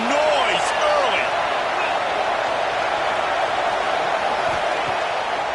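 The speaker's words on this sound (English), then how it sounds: "This crowd bringing the energy and noise early." Loud, continuous roar of a football stadium crowd at a bowl game, a dense wash of cheering voices filling the whole stretch with no pause.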